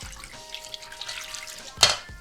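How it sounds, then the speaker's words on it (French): Water trickles briefly into a bowl of pad thai sauce made with sriracha, a faint splashing pour that swells into a short louder gush near the end, heard close with no talk. "On va juste rajouter un tout petit peu d'eau."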